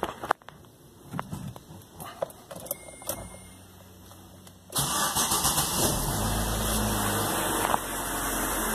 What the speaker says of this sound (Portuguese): Desligar cargas, ligar o motor. Vamos ligar o motor.